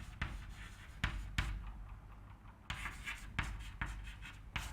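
Chalk scratching and tapping on a board during a mathematics lecture on operads and multiple zeta values, coming in sharp strokes and taps at irregular intervals, faint and with no talk.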